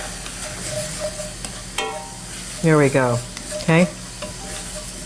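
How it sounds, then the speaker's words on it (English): Onions sizzle steadily in a hot pan as water is added to deglaze it, with continuous frying hiss and stirring under brief talk from two people. "we're going to add a little bit of water. All right. And that's going to deglaze the pan"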